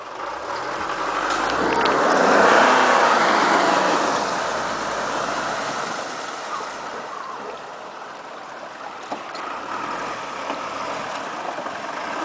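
A Mitsubishi L200 pickup's engine strains while the truck is stuck, giving a broad rushing roar that swells early and then holds at a lower, steady level.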